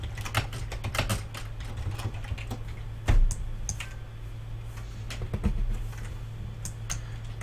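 Computer keyboard typing during a JavaScript live-coding session: quick irregular key clicks close up, in bursts with short pauses and a couple of heavier thumps.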